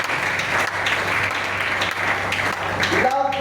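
A church congregation claps together during a service, a dense wash of applause filling the room for a few seconds, with voices mixed in and the clapping thinning toward the end.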